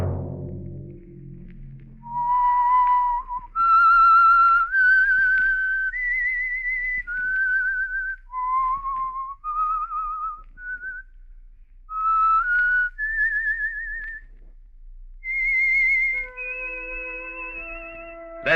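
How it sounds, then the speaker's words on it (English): A sequence of clear, melodic whistled notes rising and falling, a radio program's signal whistle, alone and loud, ending with a brief musical chord. "Let that whistle be your signal for the Signal Oil program"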